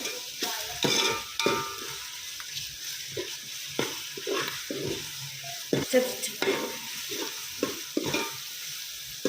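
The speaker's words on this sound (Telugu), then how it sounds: "చూసారు కదా, ఆనియన్ మంచిగా ఫ్రై అయ్యింది." Onions fried with ginger-garlic paste for a Telangana-style mutton curry: repeated scraping stir strokes in an uneven rhythm over a soft sizzle, close and alone.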